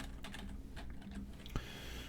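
Code is typed on a computer keyboard in a short run of soft, quiet key clicks, with one sharper press near the end.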